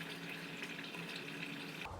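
Hot water pours steadily into a dry ice and soap experiment, a continuous close splashing hiss at low level that stops abruptly at the end, with no talk.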